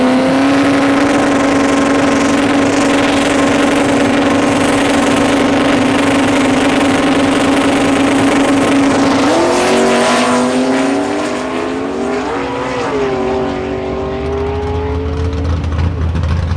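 Two Ford Mustangs, one a 2000 model, drag race down a quarter-mile strip in a loud, sustained, high-pitched engine roar that holds steady, then wavers and shifts as the cars pull away and fade slightly.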